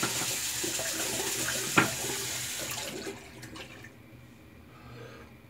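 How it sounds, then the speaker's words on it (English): Water runs from a tap to rinse a shaving brush in a sink, a steady close hiss with one brief knock, fading to a quieter trickle after a few seconds. "Dump the brush in and get it starting to rinse."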